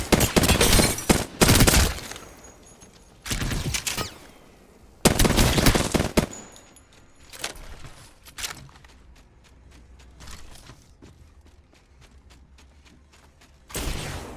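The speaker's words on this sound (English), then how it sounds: "the other trick that you can do with SMGs is burst fire them" SMG fired in short controlled bursts in Apex Legends, several loud clusters of rapid shots separated by pauses, with quieter scattered shots and game noise between.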